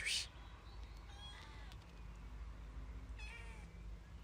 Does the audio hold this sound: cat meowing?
yes